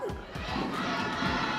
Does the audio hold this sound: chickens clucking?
no